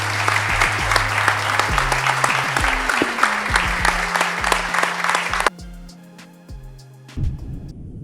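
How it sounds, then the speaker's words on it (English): Audience applause at a technology conference, clapping heard over a rising run of low electronic tones, then cutting off suddenly into near silence before a brief burst of sound returns. "A round of applause"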